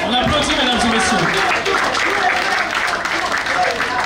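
Audience applause at a live Haitian community event, a steady, dense wash of clapping from a crowd that holds through the whole stretch, with a voice speaking briefly over it at the start.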